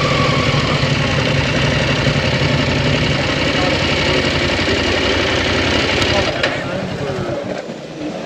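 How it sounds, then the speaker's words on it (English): A motorcycle engine runs at a steady, loud, close idle, a dense rumbling drone that holds throughout and eases slightly near the end. "Ladies and gentlemen, start your engine."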